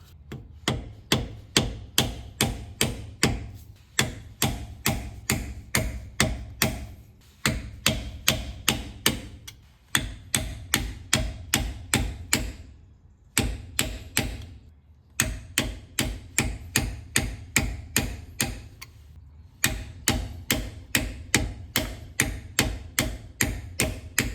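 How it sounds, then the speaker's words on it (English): An air chisel hammers at a front differential bushing on a Lexus LX470. Rapid bursts of sharp metallic impacts run a few seconds each and are broken by short pauses, loud and close, with no talking. "I have an air chisel, which hopefully I'll be able to get in here and use to crush this thing to be able to get it out."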